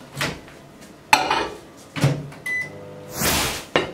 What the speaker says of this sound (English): this is going to go into the microwave for about 30 seconds to start to melt that butter